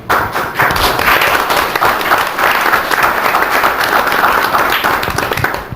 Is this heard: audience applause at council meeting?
yes